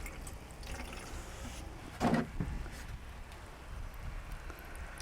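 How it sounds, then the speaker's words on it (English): Water drains from the bottom of a plant pot holding propagating cuttings, a brief trickle and splash near the middle over faint background hiss, with a small follow-up drip just after. "I got water running out"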